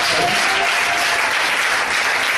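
Loud, dense applause from a church congregation, steady clapping filling the whole moment without pause.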